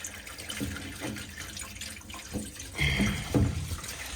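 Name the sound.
water flowing out of boiler pipe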